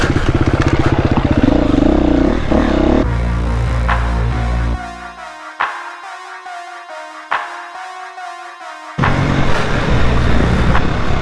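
An enduro motorcycle at a race near Kosianka roars loudly past up close, engine revving hard, then drops away to a distant drone with clatters before another bike blasts in loud at the end.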